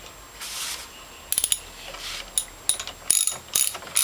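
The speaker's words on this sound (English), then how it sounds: "Hand tight, and do that to all 6 bolts." Torque wrench tightening bolts on a Norwalk juicer, scattered close metallic ratcheting clicks and scraping in short bursts, with no talk.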